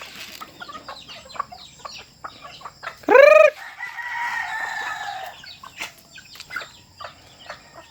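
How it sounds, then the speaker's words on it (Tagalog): On a farm, scattered clucks and peeps from hens and chicks, interrupted by a loud rooster crow midway, followed by continued soft chattering and chirping. "Yung mga sisiyo."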